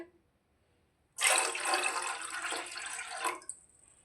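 Water and milk poured from a glass into a pot for tea: a single steady splashing pour lasting about two seconds, close and fairly loud after a quiet start, then tapering off.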